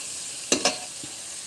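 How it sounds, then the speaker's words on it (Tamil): Crab pieces coated in chilli, turmeric, coriander and cumin powders sauté in hot oil, a steady sizzle with two quick stirring clatters and a fainter third knock. "நண்டை போட்டுட்டு இந்த மாதிரி எண்ணெயில் வதக்கணும்"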